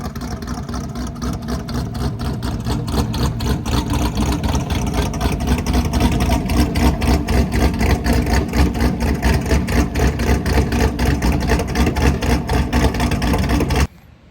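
A 2018 Chevrolet Camaro SS with an aftermarket camshaft idles loud and close in a steady, lumpy, choppy rhythm for about fourteen seconds before cutting off abruptly.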